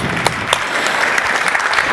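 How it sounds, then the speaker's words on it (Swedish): Audience clapping steadily and fairly loudly as a discussion panel comes up onto the stage at a Swedish event, a dense continuous applause with no talking over it. "Ni får en applåd på vägen."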